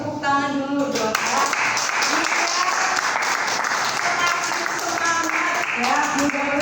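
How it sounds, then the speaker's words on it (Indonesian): An audience claps loudly and steadily right after a teacher asks for applause at the end of a training session, with voices and cheers mixed through the dense clapping. "tepuk tangan dulu dong"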